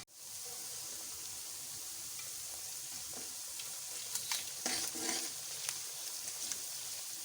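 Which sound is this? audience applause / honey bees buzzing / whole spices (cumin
whole spices (cumin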